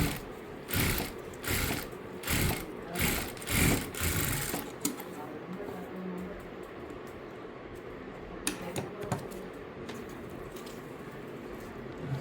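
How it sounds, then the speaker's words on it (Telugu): Sewing machine stitching a ruffled frock, several short rhythmic bursts of stitching in the first five seconds, then quieter handling and rustling of fabric near the machine. "ఇప్పుడు టర్న్ చేసుకొని ఈ విధంగా పైన ఒక స్టిచ్ వేసుకోవాలి"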